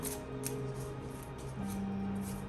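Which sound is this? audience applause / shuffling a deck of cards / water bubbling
shuffling a deck of cards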